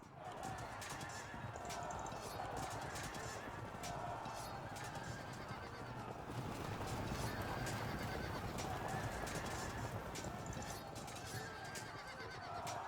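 Medieval battle in the strategy game Field of Glory II Medieval, with repeated horse neighs and whinnies over a dense, continuous din of hooves and clashing troops, fairly faint in the mix.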